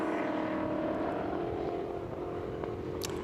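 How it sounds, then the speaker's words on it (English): Mercedes straight-eight racing car engines at the Goodwood Members' Meeting give a loud, steady, droning roar with a buzzing harmonic edge, close and continuous for a few seconds, with a brief high-pitched squeal near the end. "We won't talk too much so that you can really get the sound of these wonderful straight 8 engines."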